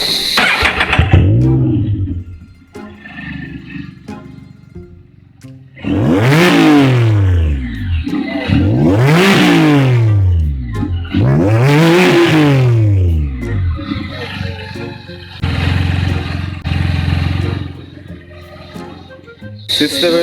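A Can-Am F3-S motorcycle engine idles, then revs hard several times in a row, each rise and fall loud and close, with a brief voice at one point.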